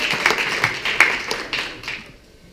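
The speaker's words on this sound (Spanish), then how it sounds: "¿Cuántos pueden dar un fuerte aplauso por eso?" A church congregation gives a short burst of applause with scattered sharp claps that fade out after about two seconds.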